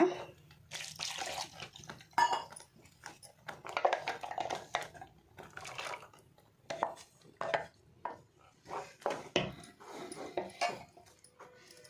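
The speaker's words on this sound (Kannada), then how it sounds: "ನೆಕ್ಕಿತ್ತೆ ಒಂತೆ ನೀರು ಪಾಡ್ಗ" Water poured into egg masala gravy in a pot, with splashing bursts, clinking of utensils and pan contact coming in uneven clusters, fairly close and without talk.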